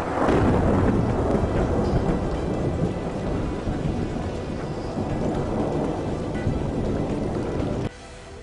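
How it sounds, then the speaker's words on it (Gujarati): Torrential monsoon rain pours down in Gir Gadhada, Gir Somnath, a loud, dense, unbroken roar with thunder rumbling through it, steady throughout before dropping slightly at the end; no voices. "ગીર સોમનાથના ગઢડામાં ધોધમાર વરસાદ વરસ્યો."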